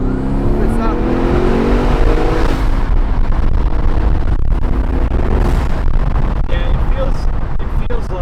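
A manual Audi C7 S6 accelerates hard through its gears, the turbocharged engine building boost with a rising drone that steps down at each shift, loud and close from inside the cabin, with a voice speaking over it.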